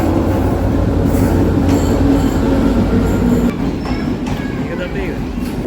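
A passenger train runs along the railway close by with a loud, continuous rumble and rattle of carriages and occasional wheel squeal, while people talk over it.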